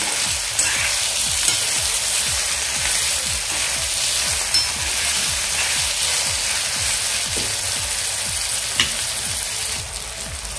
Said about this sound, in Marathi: आता टोमॅटो सॉफ्ट होईपर्यंत आपण हा भाजून घेणार आहोत.